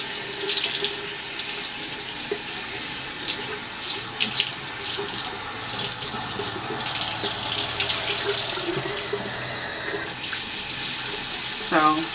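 A bathroom sink tap runs steadily as the water warms, a close, continuous splashing stream that swells slightly midway before a brief clatter near the end.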